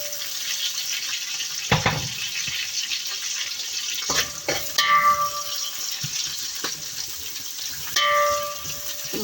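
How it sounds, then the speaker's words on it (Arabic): Onions and garlic are sautéed in a pot for lentil soup, giving a low, steady sizzle. Sharp scraping stirs and spoon clinks cut in several times, close and clear. "بندي تشويحه للبصل مع الثوم"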